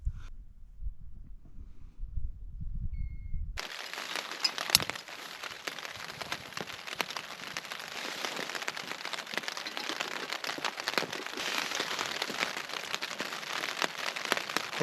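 Rain patters steadily on a tent pitched on the Hardangervidda mountain plateau in Norway, a dense continuous hiss of drops that begins abruptly after a few seconds of low rumble and stays fairly close and even throughout.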